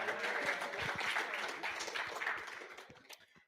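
Audience applause at a club general body meeting, a steady wash of clapping from a small crowd that tapers off at the end, fairly faint.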